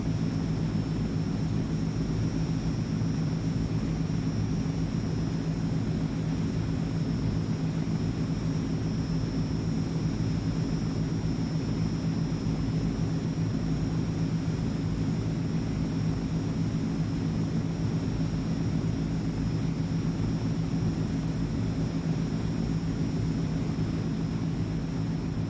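Transall C160 twin turboprop engines drone steadily throughout a flight simulator descent with reduced power, a continuous low hum with a faint high whine above it and no voices.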